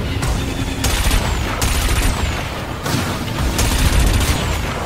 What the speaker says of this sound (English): Cannon.